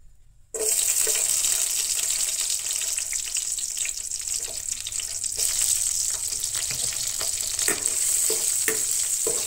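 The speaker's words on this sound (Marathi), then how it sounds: "लसूण मातशीशी भाजून घेवपाक जाय" Garlic fries in oil with a bright, steady sizzle that starts suddenly after a short silence, close and continuous, with a few stirring clicks scattered through it.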